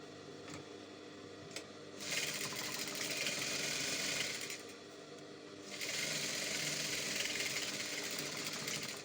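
A sewing machine stitches a hem in two steady runs of rapid, close whirring, separated by a short pause with quieter background hum.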